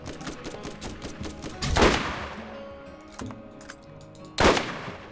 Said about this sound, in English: this sniper rifle needs better accuracy because I'm fairly certain at least 2 of those 3 last shots were on target